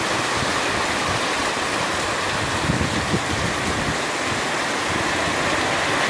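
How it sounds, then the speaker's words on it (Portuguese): Heavy rain falls steadily on a street, a dense, even roar of water that holds at the same loud level throughout with no voices. "Mas dá pra ver que a chuva tá bonita"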